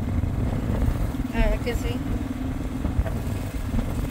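Motorcycle riding through heavy traffic in Quetzaltenango, Guatemala, its engine humming low and steady beneath close conversation, with a brief higher whine partway through.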